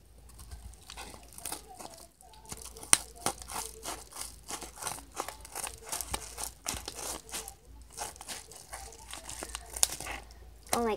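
An eBay package of plastic pet toys being cut and torn open by hand, with dense crinkling of plastic and tape and scattered sharp snips, close and continuous, under occasional light talking.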